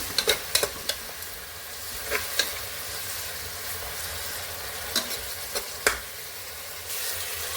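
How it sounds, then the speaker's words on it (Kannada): A steady sizzling hiss of leaves frying in hot oil, broken by scattered sharp clicks and scrapes of stirring, close and moderately loud. "ಮೆಂತ್ಯ ಸೊಪ್ಪು ಹಾಕ್ಕೊಂಡು ಎಣ್ಣೆಯಲ್ಲಿ ಸ್ವಲ್ಪ ಚೆನ್ನಾಗಿ ಫ್ರೈ ಮಾಡ್ಕೊಳ್ಳಿ"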